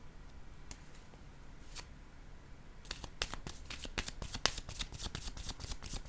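Tarot cards are shuffled, first as a few faint isolated flicks and then as a quick, crisp run of riffling snaps, close and fairly quiet.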